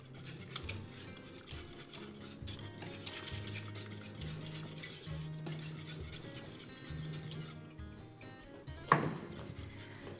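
Utensils scrape and stir quickly in a pan as an egg is mixed into béchamel sauce, producing a continuous close rubbing and clinking sound that ends in a single sharper knock near the end.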